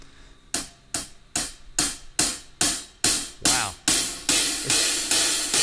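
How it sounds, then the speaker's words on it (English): Hi-hat struck in a steady beat, starting as tight closed ticks and gradually opening into louder, longer washy cymbal hits. "Lightly hit hats closely tight together, and then gradually letting them open up and hit it a little bit harder."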